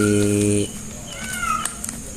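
A cat gives a loud, tonal meow lasting about half a second at the start, then faint background sounds and noises follow.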